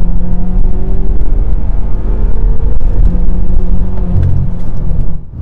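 A 2013 BMW F13 M6 pulls hard at full throttle, its engine note rising steadily in a loud, continuous run up through the revs before easing off at the very end.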